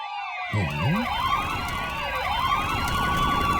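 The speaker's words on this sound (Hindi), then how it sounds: "फायर इंजन का सायरन" A loud wailing fire engine siren sweeps up and down repeatedly, with overlapping tones as if more than one fire engine is passing close by.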